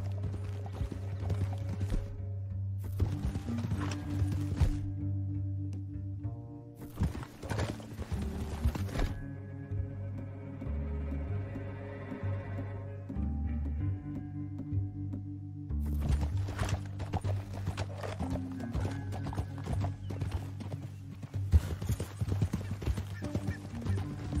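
Horse hooves clip-clop steadily on the ground in Red Dead Redemption 2, close and continuous, under a sustained musical score with a couple of neighs or snorts, while sections of music swell and drop away.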